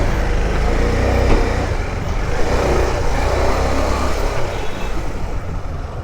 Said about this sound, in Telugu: ట్రాఫిక్ బాగుంది ఇక్కడ